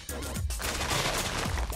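Quick, loud, crunchy bursts of dirt being dug in Minecraft, packed tightly together with no gaps between them.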